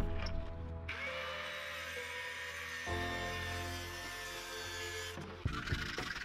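Reclaimed wood, once glued, being cut to size with a power saw, a steady whining buzz with a shift in pitch partway through and a clunk near the end.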